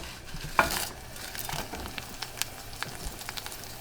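Hot pepper sizzles and bubbles in oil in a pan while cooking seppie fra diavolo, a soft continuous crackle broken by a sharp knock and a few light scraping stirs.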